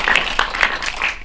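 An audience at a film screening talk for Dustman breaks into brief, steady applause, a dense patter of many hands clapping at close range.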